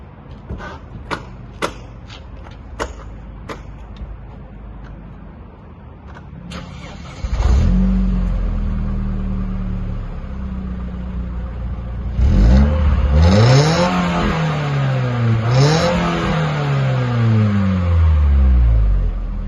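A few sharp clicks and taps, then a freshly rebuilt, decarbonized Opel Omega B engine starts and idles roughly before revving up and down repeatedly, loud and close.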